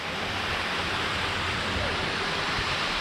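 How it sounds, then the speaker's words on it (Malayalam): Kollam Kolli waterfall near Choolattipara in Malappuram roars loud and steady from close up, a dense continuous rush of falling water with no break. "ഇത്രയും അടുത്തുനിന്ന് ഒരു വെള്ളച്ചാട്ടം കാണണമെങ്കിൽ ഇവിടെ തന്നെ വരണം"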